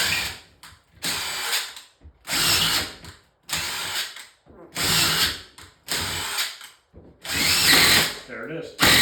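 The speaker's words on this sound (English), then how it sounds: "So we're gonna find it with the screw again" A drill drives a screw into a ceiling while searching for a roof truss in a bedroom remodel, giving about seven separate whirring bursts separated by short pauses, loud and close.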